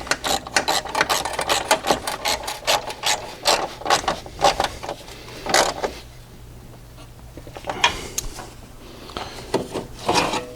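Rapid ratchet clicks in repeated bursts as a bolt on the battery support bracket of a Honda Accord is tightened, close and crisp, with a short pause before a final few strokes.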